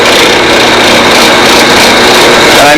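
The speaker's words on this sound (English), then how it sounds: "Now with the drill long, I can just run it through." A drill runs through a part clamped in a vise while a wing is fitted to a fuselage. The motor whines loudly and steadily for about three seconds with no talking.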